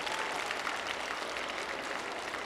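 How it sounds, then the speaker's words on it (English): An auditorium audience of school children at a young people's concert applauding, a thick, even roar of many hands heard at a distance throughout, with no voices on top. "Nice auditorium applauding."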